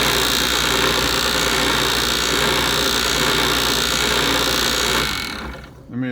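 A lathe chuck spins freely on its own, giving a steady, loud mechanical whir and hum that holds evenly and then winds down abruptly near the end.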